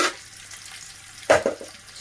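Onions frying in hot oil, a soft continuous sizzle close by, with a short louder burst of stirring or crackling midway and no voices.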